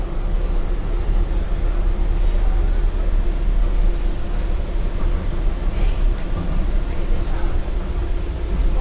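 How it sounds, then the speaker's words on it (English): A train rolls past overhead on elevated track near a London depot, a steady broad rumble and rattle that holds for several seconds with faint street ambience beneath. "Train passing overhead"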